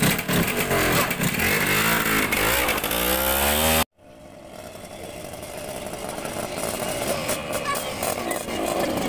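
A motorcycle engine revs loudly and roughly up close, cuts out abruptly, then a quieter engine drone builds back up.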